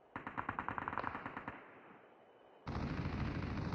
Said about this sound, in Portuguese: tá tendo um tiro ali que eu não sei o que que é.